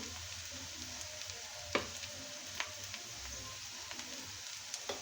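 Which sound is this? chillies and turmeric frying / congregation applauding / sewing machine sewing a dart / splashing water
chillies and turmeric frying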